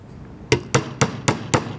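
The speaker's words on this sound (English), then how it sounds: "on this I probably will use a regular hammer" Regular hammer tapping a metal piece over a dapping block, six sharp ringing strikes at an even, deliberate pace, close and loud against a quiet background.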